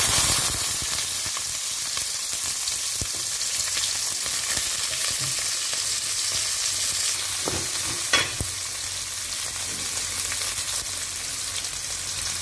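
Chopped onions and two or three green chillies frying in a pan with a steady sizzle and occasional stirring scrapes, continuous and close with no talking, while mushroom curry is being prepared.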